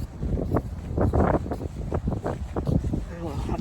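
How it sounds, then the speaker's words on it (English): Strong wind gusts buffet the microphone outdoors in a loud, continuous rumbling roar that surges and dips, with a voice speaking faintly underneath. "you probably can't hear me because of the wind now"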